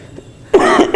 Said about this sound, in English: You will have to excuse me for my coughing